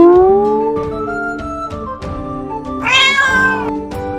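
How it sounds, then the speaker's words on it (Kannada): A cat meows in a long, wavering cry with rising and falling harmonics, then a second, brighter meow near the end, heard up close and alone with no talking. "ಹೇ ಬೆಕ್ಕು ಬೆಕ್ಕು"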